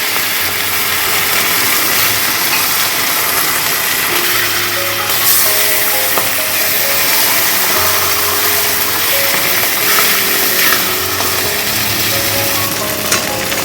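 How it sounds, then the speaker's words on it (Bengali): Katla fish pieces shallow frying in oil, a loud, dense, continuous close sizzle with steady hiss and faint clinks, no voices. "আরও কিছুটা মাছ ভেজে নেব।"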